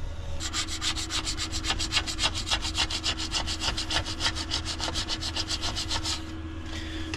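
A scraper run over a snowboard base to remove excess repair material, making fast rhythmic rasping strokes, about thirty in a row, close and even, before stopping near the end.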